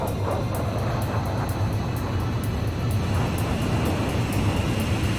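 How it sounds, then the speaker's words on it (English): A transport plane making an emergency landing in Ace Combat 5 roars as a steady broadband aircraft drone, loud and unbroken, with faint regular ticks running over it. "The transport plane is ready for an emergency landing."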